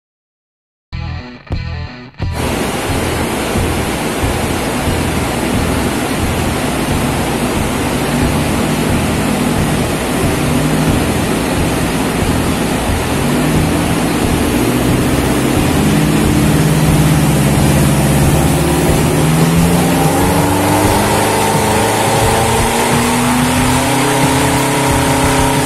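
A 2.4L Mivec engine in a Mitsubishi Montero roars on a dyno after a brief start, holding a loud steady drone that climbs in pitch as revs rise over about twenty seconds.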